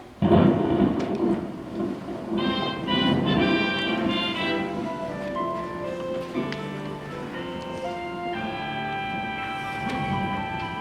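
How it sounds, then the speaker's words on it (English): A thunderstorm brewing on a snowy Christmas Eve, low rumbling thunder rolling under steady rain while sustained tonal music plays throughout, the storm noise broad and continuous rather than sharp cracks. "First snow and then this threatening storm."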